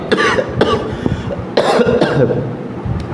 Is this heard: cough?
yes